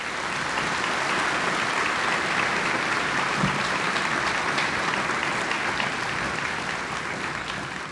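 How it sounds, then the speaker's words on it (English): A large crowd at a college graduation ceremony claps steadily and loudly, sustained applause filling the space with no pauses. "Let's give them a round of applause."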